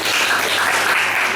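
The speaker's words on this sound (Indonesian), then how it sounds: "yuk beri aplaus buat kelompok 2" A classroom group claps steadily for a student group that has just finished a science presentation on magnets. The applause is dense and continuous, close and loud, and nobody talks over it.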